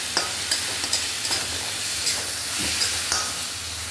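Potatoes stirred into sizzling masala in a pan for aloo baingan sabzi, a steady frying hiss with regular scraping strokes of the spoon, close and without talk.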